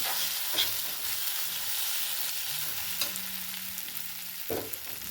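Onion posto with poppy seeds frying in a pan, a continuous close sizzle broken by occasional scraping stirs of a spatula.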